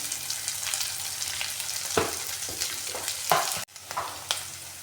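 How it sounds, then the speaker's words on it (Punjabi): Onions frying in a pan until brown, a steady hissing sizzle running throughout with a few louder bursts and scraping stirs of a utensil, close and with no voices. "ਪਿਆਜ਼ ਨੂੰ ਉਦੋਂ ਤੱਕ ਭੁੰਨਣਾ ਜਦੋਂ ਤੱਕ ਇਹ ਬਰਾਊਨ ਨਹੀਂ ਹੋ ਜਾਂਦਾ"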